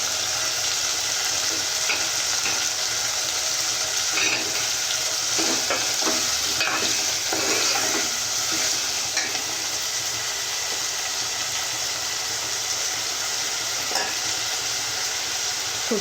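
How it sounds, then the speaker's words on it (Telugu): Curry leaves fry in hot oil in a pan for a Telugu black-eyed pea curry, giving a loud, steady broadband sizzle with scattered crackles and pops throughout, no voices. "కరేపాకు వేసుకోవాలి"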